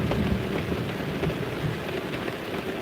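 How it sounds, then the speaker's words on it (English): Steady heavy rain pours and patters on surfaces in a continuous hiss, with low thunder rumbling beneath it. No voices are heard. "Oh, I still hear the thunder."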